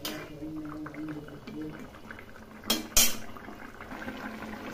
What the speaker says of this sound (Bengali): এখন এটা আমি ফুটিয়ে নেব।